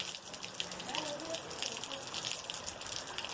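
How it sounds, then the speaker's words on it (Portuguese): Heavy rain pours down around a burning São João bonfire, a dense, steady hiss of falling water close by and fairly soft, with no clear crackle standing out. "do jeito que tá chovendo aqui"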